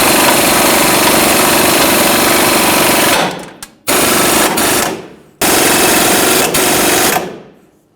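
A loud, rapid mechanical rattling from a powered ball joint press forcing a ball joint into the lower control arm of a Mercury Grand Marquis runs in three bursts separated by brief silences.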